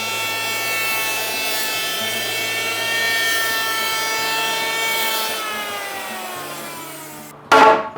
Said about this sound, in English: But I go over them with an electric plane for a smooth finish.